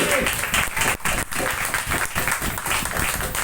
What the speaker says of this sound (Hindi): जोरदार ताली बजाइए, खुदा का नाम का महिमा करेंगे। जोरदार ताली बजाएंगे।